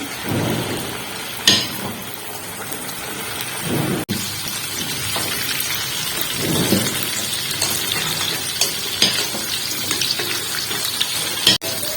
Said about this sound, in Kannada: ಈಗ ಒಂದೊಂದು ತನ ಎಣ್ಣೆ ಒಳಗೆ ಬಿಡೋಣ